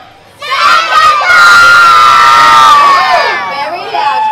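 A crowd of children cheers and shouts loudly together at a Christmas parade at Movie World on the Gold Coast. The burst of voices rises sharply, holds strong for several seconds, then trails off slightly.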